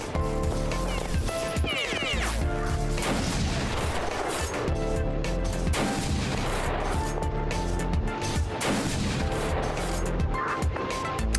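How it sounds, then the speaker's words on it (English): Sniper rifle shots in the game Beyond Citadel thud through a dense, busy wash of game sounds and background music, with other gunfire mixed in. "I'm gonna use my sniper rifle"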